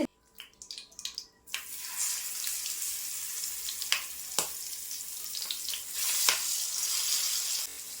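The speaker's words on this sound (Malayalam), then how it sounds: "മീനൊന്ന് ഫ്രൈ ചെയ്തെടുക്കട്ടെ" Fish sizzles and fries steadily in a hot pan in a home kitchen, a continuous bright crackle with a few sharper pops and some clatter at the start.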